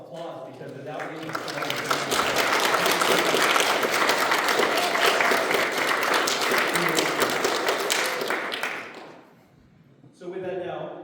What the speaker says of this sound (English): I want to say thank you and give you guys a round of applause